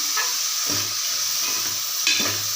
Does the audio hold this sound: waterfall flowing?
no